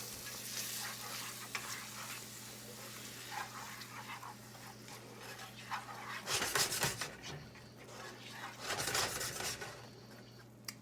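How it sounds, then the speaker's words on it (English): Hamburger mixed with salsa sizzles in a nonstick skillet while a spoon stirs it. The frying hiss is steady and close, broken by two louder scraping bursts of stirring. "go ahead and stir in your salsa to coat all of the hamburger"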